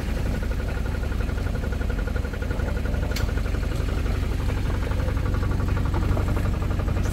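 A Mitsubishi 4D56 turbo diesel engine from a 4x4 abandoned for ten years runs steadily at a close, even idle with a dense low rumble and constant vibration, alone without talk.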